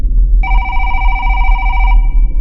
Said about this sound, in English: The phone rang once,